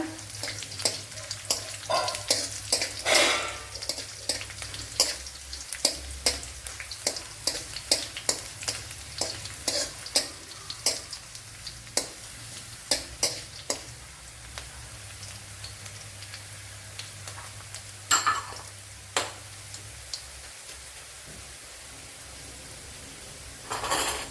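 Dried red chillies frying in a pan of oil with garlic for Kerala-style mango pickle, a crackling sizzle with many sharp pops and spatters, interrupted by spoon stirring; no voices.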